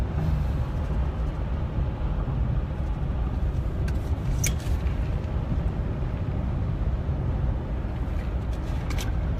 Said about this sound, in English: Truck stopping.